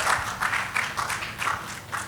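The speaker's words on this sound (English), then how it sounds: "Another round of applause for the panel, please." An audience at a regulatory discussion forum applauds a panel, a moderate round of many hands clapping in a steady patter at some distance, with no talk over it.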